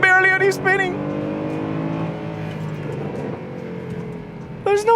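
A Mercedes-Benz W204 C63 AMG accelerates hard, its deep engine note rising steadily through the revs and then easing off, with someone talking over the opening and closing moments.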